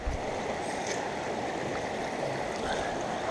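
Steady rushing water flowing through a gold sluice box outdoors, a continuous broadband wash with no pauses and no voices.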